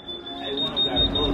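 A steady, high-pitched electronic alarm tone from a store security tag buzzes continuously while people talk nearby.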